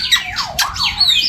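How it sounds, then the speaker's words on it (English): African grey parrots at a wildlife park squawk loudly and close by, a rapid run of harsh, swooping calls and whistles overlapping in quick succession with no talking. "Noisy old parrots."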